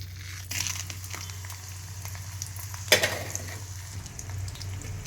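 Spices tempering in hot oil for moong dal, crackling and sizzling steadily with one sharper pop near the middle, close and fairly loud, with no talking.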